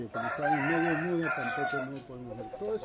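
A rooster crows loudly and close by, a long wavering call with rising and falling pitch steps, standing out over a noisy outdoor background.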